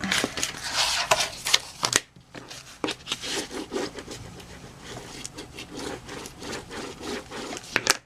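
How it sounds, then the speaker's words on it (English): Score tape is burnished down onto paper by hand while making a mini planner, producing dry, close scraping and rubbing strokes in short bursts with a brief pause, and no voice. "you need to burnish your score tape and then you can get the back off"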